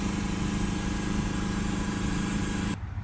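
A diesel engine with a faulty differential pressure sensor, just after forced DPF regenerations, holds a steady raised rev around 2,500 RPM, a continuous loud drone that cuts off abruptly near the end.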